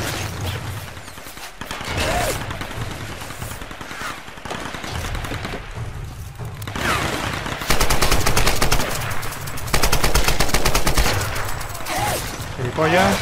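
Gunfire aimed at the player in the video game Tomb Raider, on a floating ship. Loud rapid bursts of automatic fire come in dense stretches with brief gaps.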